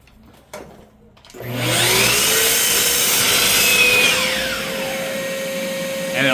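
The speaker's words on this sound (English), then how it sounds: "It's when you're cutting or drilling a piece of wood and it splinters like this." A power drill bores through a piece of wood and splinters it, starting with a few faint knocks, then a loud, sustained grinding whine that holds steady for several seconds, close up.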